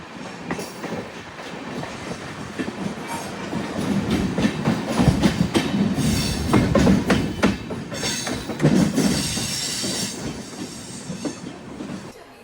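A Bilaspur–Bhagat Ki Kothi passenger train passes near Narmadapuram railway station with loud, steady rumbling and rhythmic clickety-clack of wheels over rail joints, swelling as the carriages roll by, with a faint wheel squeal.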